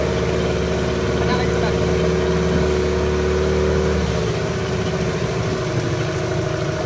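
A speedboat engine runs loud and close, a steady droning roar whose pitch drops and eases after about four seconds as the boat keeps going.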